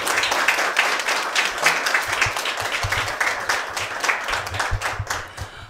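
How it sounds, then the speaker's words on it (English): An audience applauds steadily, with dense overlapping clapping from a room full of people, for the coaches at a women's business pitch competition. "So let's give another round of applause for all of our coaches."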